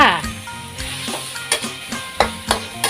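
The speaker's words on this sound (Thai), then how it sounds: "ผัดรวมกันจ้า" Sweet snails stir-fry in a hot pan for a Thai curry, giving a continuous sizzle broken by several sharp scrapes and knocks as the utensil stirs, close up.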